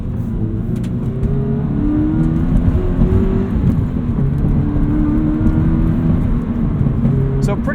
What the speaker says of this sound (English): So pretty rough road back there.